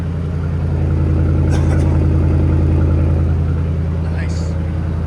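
A 2007 RAM 1500 with a 4.7L V8 and straight-pipe exhaust with tucked and dumped tips idles with a loud, steady, deep throbbing burble, close by and unbroken.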